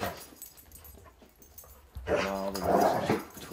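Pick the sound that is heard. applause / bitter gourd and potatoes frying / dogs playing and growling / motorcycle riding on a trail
dogs playing and growling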